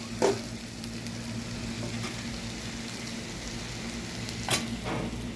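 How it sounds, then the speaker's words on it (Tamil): Tomatoes sautéing in a pan for squid thokku, a soft, even sizzle with two brief sharp stirring scrapes near the start and near the end. "நல்லா தக்காளி வதங்கட்டும்"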